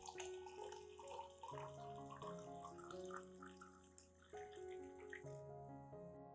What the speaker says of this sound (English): And then add 500 milliliters of warm water.